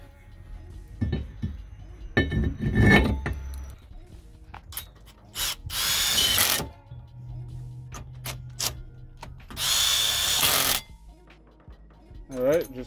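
A power drill enlarges bolt holes for Brembo brakes on a Nissan Laurel C33, running in two loud grinding bursts of about a second each amid clinks and handling noise. Someone talks in between.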